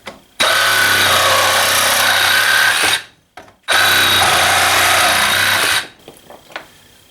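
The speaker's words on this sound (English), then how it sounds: "Next, I'm going to cut through a range of PVC pipes." A Milwaukee M12 FUEL Hackzall reciprocating saw cuts PVC pipe in two loud, buzzing bursts of about three seconds each, then small clatters as the cut pieces settle.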